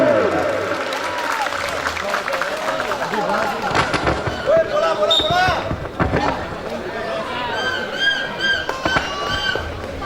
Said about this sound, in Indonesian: kita kasih tepuk tangan untuk kedua tim